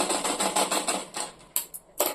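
Domestic sewing machine stitching a gored skirt beside the zip: a rapid, even run of mechanical stitching bursts that pauses, then resumes with a few short, loud spurts close by.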